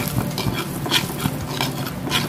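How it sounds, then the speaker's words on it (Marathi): Flour roasts in oil in a pan over a low flame, giving close, repeated scraping stirs with a light sizzle underneath, loud and rhythmic. "ते चांगलं खमंग असं तेलामध्ये परतून घ्यायचं"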